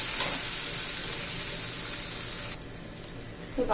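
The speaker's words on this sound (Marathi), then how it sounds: "तेलात छान आता फ्राय करून घेऊया चांगलं तेल तुझ्याकडे आपण परतून घेणार आहोत" Oil sizzles steadily in a pan while masala is fried for a fenugreek and pea curry, a close, even hiss that drops quieter partway through.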